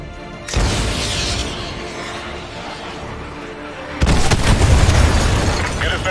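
A missile strike explodes on a BTR armored vehicle in the Call of Duty Modern Warfare 2 Remastered game, first one loud blast, then a heavier, rumbling second explosion with a long tail.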